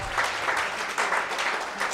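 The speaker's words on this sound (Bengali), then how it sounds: "আমরা তার জন্য একটা জোরে করতালি নিব।" Audience applause at a young entrepreneurs' association event in Rajshahi, a steady dense clapping from a fairly large crowd, loud and close, lasting throughout without any talking.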